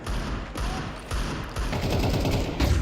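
Pistol gunfire in a Counter-Strike match comes as loud rapid bursts of shots with thuds and impacts layered over dense game noise.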